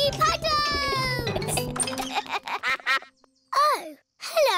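A cartoon duck from Peppa Pig quacks in short, bright bursts, following and mixed in with lively cartoon character voices and children's chatter.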